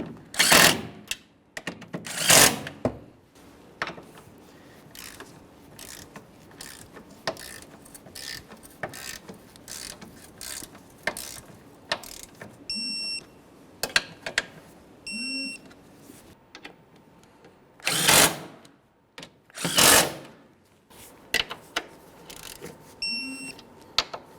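A ratchet tightens the 13mm strut tower bolts on a 2012-2018 Nissan Altima 2.5L during intake manifold work, giving sharp clicking bursts and loud metallic clacks at irregular intervals, with faint tonal beeps in between and no voice.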